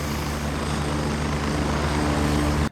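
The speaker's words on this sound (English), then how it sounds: "There's another helicopter." A helicopter in the video game Gray Zone Warfare thumps loudly and steadily with a dense rotor drone, holding close for a few seconds before cutting off abruptly.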